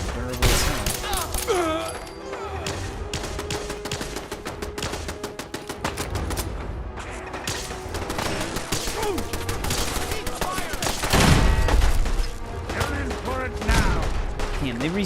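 Dense rapid gunfire during a Fallout 4 firefight against gunners, sustained bursts and volleys close and loud throughout, with a voice talking over parts of it.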